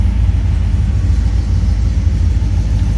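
A 1970 Ford Mustang convertible with its original 351C V8 and 4-speed runs indoors, a close, steady deep rumble at idle with an even throb throughout and no voices.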